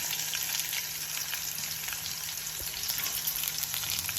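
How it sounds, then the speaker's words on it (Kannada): Peanuts, chana dal, curry leaves and green chillies fry in hot oil, giving a steady, dense sizzle with faint stirring, close and continuous with no talk. "ಸ್ವಲ್ಪ ಕಡಲೆ ಬೀಜ ಫ್ರೈ ಮಾಡ್ಕೊಳ್ಳೋಣ"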